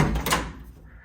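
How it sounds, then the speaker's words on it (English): The door of a 1971 Monte Carlo SS being disassembled pops open with a single close, sharp metallic clunk and thump, then a short fading rattle. "let me see if I can get this door popped open here"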